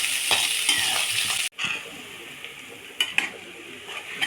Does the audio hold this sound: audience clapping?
no